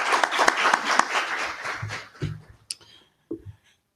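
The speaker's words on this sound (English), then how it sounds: "Let's give them all a round of applause." A university audience applauds at a Constitution and Citizenship Day event, a brisk round of clapping that fades out within two seconds, followed by a few scattered thumps and near-silence.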